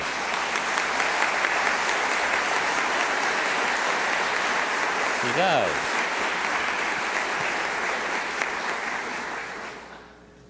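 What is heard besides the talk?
audience applause for Sister Chang Kong's singing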